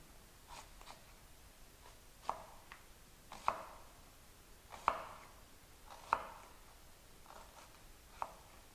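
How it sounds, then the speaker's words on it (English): Knife cutting through an onion on a board, a series of sharp separate chops at an uneven slow pace with softer slicing sounds between, close and quiet with no talk. "I'm going to cut into the onion"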